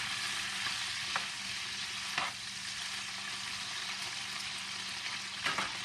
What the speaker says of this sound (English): The food goes into the oil, and we're just going to quickly cook it.